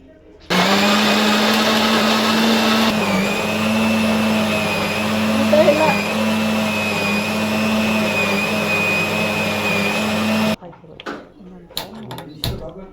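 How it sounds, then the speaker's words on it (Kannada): A mixer grinder grinding spices for fish sambar whirs loudly and steadily for about ten seconds, then stops abruptly, leaving faint clatter and brief voices. "ನೋಡಿ ರುಬ್ತಾ ಇದ್ದೀವಿ"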